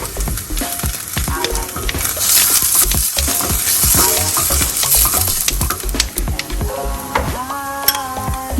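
Onion fries in hot oil for a Hyderabadi veg dum biryani. A loud, constant sizzle runs throughout, broken by repeated clacks and scrapes of stirring, with a few faint tonal beeps near the end.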